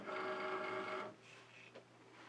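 A Cricut Maker cutting machine draws in its cutting mat with a short whirring motor hum that lasts about a second, followed by a faint click and a quieter mechanical settle.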